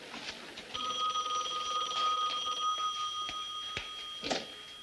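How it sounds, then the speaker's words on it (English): An old 1970s telephone bell rings in one sustained, loud, close trill, with faint room noise before and after and no voices. "Get Chrissy phone, will you?"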